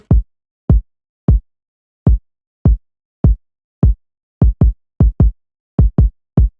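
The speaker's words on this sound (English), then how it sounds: "we have like these double hits for the kick" Deep, punchy rack kick drum hits from a trap beat play alone in a steady pattern, with quick back-to-back double hits appearing toward the end.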